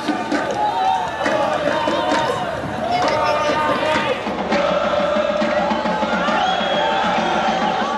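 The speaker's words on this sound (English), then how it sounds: "This is a typical football crowd in Doha, almost non-existent." A sparse football crowd at an international game in Doha gives thin, scattered shouts and cheers from spread-out voices in an open stadium, with steady chatter and no big roar.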